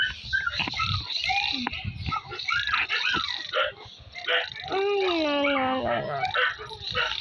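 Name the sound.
neighbours' dogs barking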